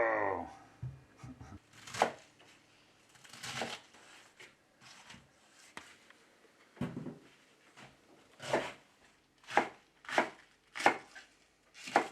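Cabbage being chopped for kimchi with a knife on a board, a run of sharp, close cuts that starts sparse and turns into a steady rhythm of distinct strikes toward the end.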